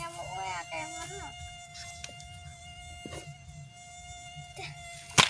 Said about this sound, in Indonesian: Dah nyamuk wae akeh ngono.